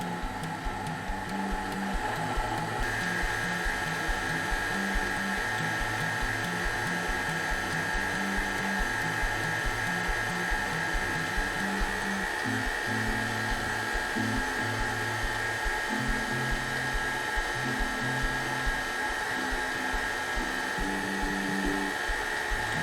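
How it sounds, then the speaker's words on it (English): An electric mixer runs at low speed while chunks of butter are worked into a crumb topping, producing a steady motor whir with a rhythmic churning that continues loud and unbroken. "with the mixer running all the time at low speed, we're gonna start adding one chunk of butter at a time."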